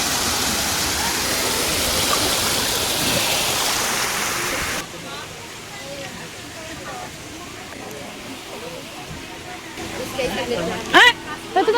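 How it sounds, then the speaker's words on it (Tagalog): Strong rushing water roars steadily at a hidden hot spring in Laguna, loud at first and then quieter and farther off, with people talking over it. "Lakas ng tubig, no?"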